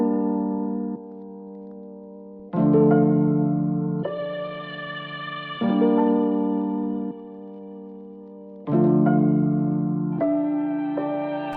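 Swelling sampled guitar chords processed with heavy reverb and a bandpass EQ, sustained tones that rise in slow blooms and shift pitch every few seconds, loud and clear with no talking.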